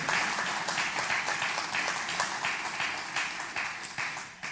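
Church congregation applauding after a Psalm 23 scripture reading during a Spanish-language sermon, a sustained wash of many hands clapping evenly throughout, moderately loud with no speech on top.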